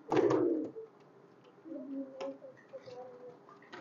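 A Royal Teddy highflyer pigeon coos softly a few times after a loud flutter at release, close by and otherwise quiet, with no voices.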